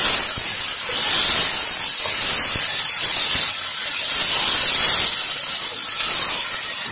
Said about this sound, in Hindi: थोड़ी देर इसको फ्राई करेंगे।